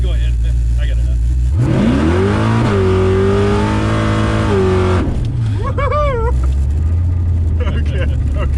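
A supercharged 600 WHP 1969 Camaro revs hard, engine note climbing and holding at high RPM for several seconds, then falling back to a loud, lumpy idle; close and dominant, with speech briefly heard under it.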